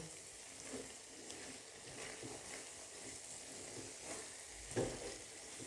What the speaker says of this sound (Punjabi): ਇਹ ਜਿਸ ਤਰ੍ਹਾਂ ਭੁੱਜੇਗੀ, ਇਹਦਾ ਘੀ ਜਿਹੜਾ ਨਾ ਖੁਦ ਹੀ ਬਖੁਦ ਹੀ ਅਲੱਗਾ ਹੁੰਦਾ ਜਾਏਗਾ